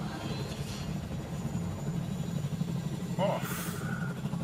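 A video game helicopter gives a steady, low rumbling drone that continues throughout at moderate loudness, with a brief brighter noise near the end.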